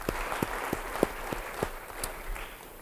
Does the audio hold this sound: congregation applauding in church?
yes